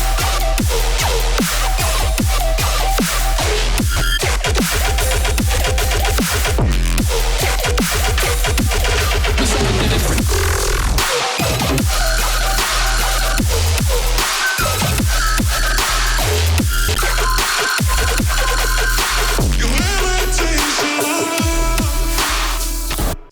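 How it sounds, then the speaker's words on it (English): A heavy melodic dubstep drop: loud, dense bass growls and pounding drums under melodic synths, continuous and full for over twenty seconds with a few brief cut-outs. "make a very full dubstep drop that includes a melodic"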